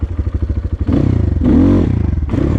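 A motorcycle in first gear, clutch pulled in and brake applied during wheelie practice. The engine thumps rhythmically at idle, then surges into a loud, sustained close-up revving drone with a brief dip before picking up again.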